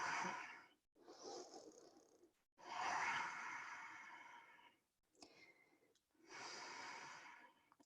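Slow, deep breaths held in a yoga wheel pose, long airy inhales and exhales with sighing releases separated by brief pauses, close and fairly quiet with no talking.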